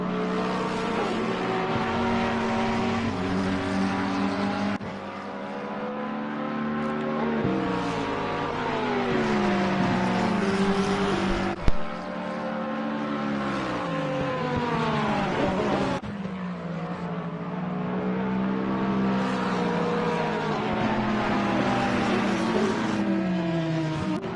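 Racing cars scream around the Nürburgring, a Porsche among them, their engines climbing and dropping through gear changes in long sustained runs with a brief sharp knock midway, loud and continuous.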